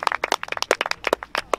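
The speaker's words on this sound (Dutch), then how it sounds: "Geef hem een warm applaus." A small crowd claps to welcome a performer at a village festival in Dalfsen: a quick run of sharp, uneven claps, fairly close and fairly loud, with no talking.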